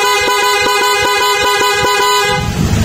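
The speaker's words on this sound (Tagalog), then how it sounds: "Sa loud horn, pipindutin lang to para mag loud horn." A loud aftermarket horn on a Honda Click 125 scooter blares in one sustained, buzzy, rapidly pulsing honk up close, then cuts off abruptly.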